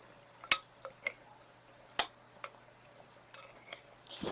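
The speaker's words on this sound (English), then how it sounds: "Stir that up." A utensil clinks against a bowl or pan while ribeye steak seasoning is stirred. There are about six or seven sharp close taps in an uneven rhythm, followed by a brief rattle, in an otherwise quiet room.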